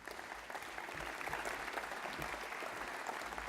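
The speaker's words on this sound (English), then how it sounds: "could we have a round of applause for our leaders, please?" Applause at an agricultural national congress for leadership program members, a broad steady patter of a large crowd clapping, distant and faint in a big hall, with a low rumble underneath.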